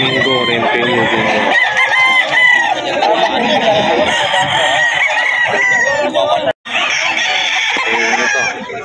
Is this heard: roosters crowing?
yes